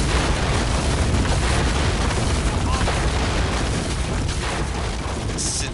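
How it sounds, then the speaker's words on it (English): Buildings being destroyed in the Stainless Steel 6.4 strategy game, a continuous dense rumble of crashing and collapsing debris, steady and loud for the whole stretch, with a voice faintly under it. "I might as well destroy all the buildings"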